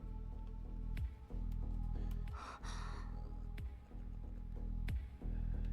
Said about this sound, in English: Hearing those words, Saber gasps.